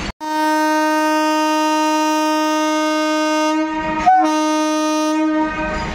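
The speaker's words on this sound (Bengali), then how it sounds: "আর এই সাইডে বর্ধমান হাওড়া কড লাইন মালগাড়ি দেখতে পাচ্ছেন যাচ্ছে।" A train horn sounds loud and sustained for several seconds near Masagram station on the Bardhaman–Howrah chord line, where a freight train is passing, followed by rumbling rail noise as the blast ends.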